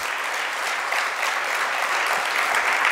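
Audience applause during a religious discourse gathering, a sustained, even wash of many hands clapping without pause.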